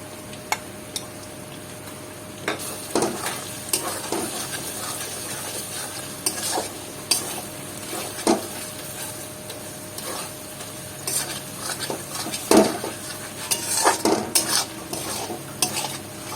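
Cumin and spice masala frying in oil for a Bengali mutton curry, with a steady soft sizzle under repeated scraping and stirring clinks of a spoon against the pan.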